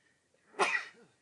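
One abrupt, close sneeze, a quick sharp burst in an otherwise quiet room.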